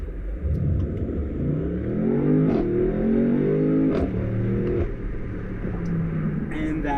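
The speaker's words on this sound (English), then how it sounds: "And just even when it's running around, 40, 50 kilometers, the engine pops are there, and it sounds so good." A 2019 BMW M850i Cabriolet engine in Sport mode, revving up and down with a deep rising and falling roar and exhaust pops, loud and steady, while someone talks over it.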